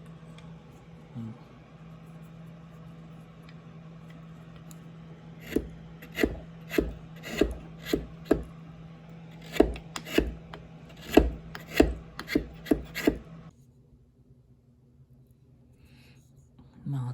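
A knife carves a wooden netsuke fox mask, making a faint steady hum and then a run of sharp, close cutting and scraping strokes in an irregular rhythm that stop near the end.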